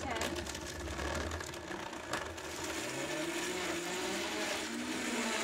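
A Vitamix blender motor whirs up from its lowest variable speed, its tone climbing steadily as it speeds up, with a loud, continuous churning and whine throughout.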